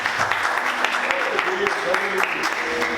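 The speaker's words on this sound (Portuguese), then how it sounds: "Você pode aplaudir Jesus bem forte" A church congregation claps together for Jesus at a service, with a steady wash of applause under voices talking over it.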